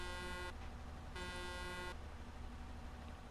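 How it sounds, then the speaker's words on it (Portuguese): A vehicle horn in the video game Arma 3 honks twice, two flat sustained blasts under a second each, with a steady engine rumble running underneath. "pela buzina só pode ser o Frost, né?"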